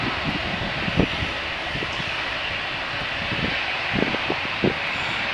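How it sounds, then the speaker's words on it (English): An EasyJet Airbus A320 airliner takes off at Manchester Airport, heard as a steady broadband jet roar with a few low thumps, with no voices over it. "So off goes EasyJet."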